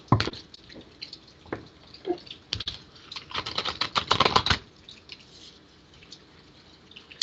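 A rapid riffle of cards being shuffled, crisp fluttering clicks bursting in quick runs and then stopping, with no voices.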